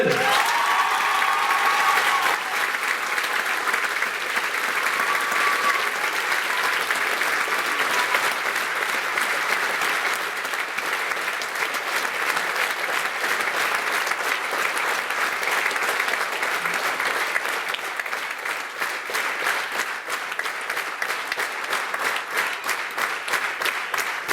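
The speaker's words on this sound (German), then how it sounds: "Und deswegen einen riesigen Applaus für Hanna-Luca Jansen!" Sustained audience applause for a dance choreographer at a school graduation variety show, dense steady clapping from a large crowd lasting throughout, with a brief voice near the start.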